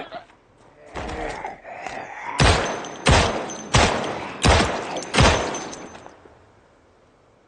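Gunshots fired at a zombie in Project Zomboid, five loud evenly spaced reports in a steady rhythm after a few softer thuds, ending in quiet.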